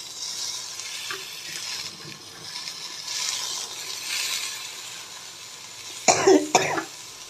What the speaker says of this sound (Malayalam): ചേച്ചിക്ക് ചെറിയൊരു ചുമ